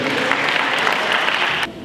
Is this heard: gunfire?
no